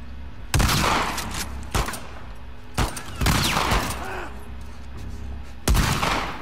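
Heavy gunfire during a firefight in The Last of Us Part II, with several loud, sharp bursts spaced unevenly over a constant low rumble of ambient game sound.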